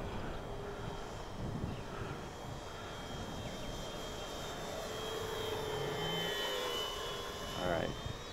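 Radio control EC-1500 airplane flying at half throttle, a steady, moderately distant motor drone that rises and shifts in pitch as it passes, with people talking over it.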